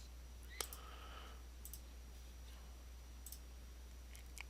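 A few sharp, quiet computer mouse clicks, some in quick double taps, spaced across a faint steady hum with no one talking.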